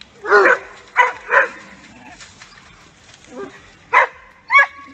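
A dog confronting a kangaroo gives a series of sharp, close barks and yips in uneven bursts, with quieter stretches between them.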